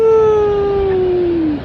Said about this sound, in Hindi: रात के तकरीबन 12 बजे का टाइम है और मुकम्मल कुत्ते भौंके जा रहे हैं